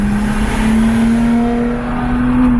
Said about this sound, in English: Thank you for revving that engine.